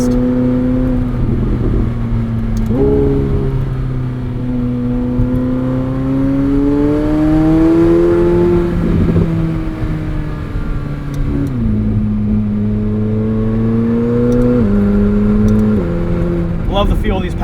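A 2024 McLaren 750S engine is heard from inside at speed, loud and steady, its drone rising and falling with gear changes, plus wind and road noise.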